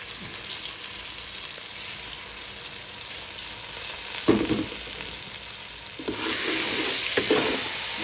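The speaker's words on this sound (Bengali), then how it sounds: "একটু ভাজা ভাজা হোক চাল" Basmati rice frying and being stirred in a pan with onion, garlic and salt for pulao: a steady close sizzle throughout, with louder scraping stirs breaking in around the middle and near the end.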